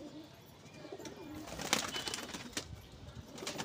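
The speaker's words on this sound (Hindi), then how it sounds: "बहुत शानदार कबूतर।" Pigeons coo softly amid a busy outdoor background, with occasional wing flutters and rustling, no talking.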